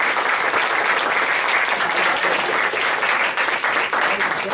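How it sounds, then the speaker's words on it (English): Audience at a Kidpower North Carolina and TOCS anti-bullying program event breaks into a big round of applause, loud, dense and steady clapping from many hands filling the room throughout. "applause."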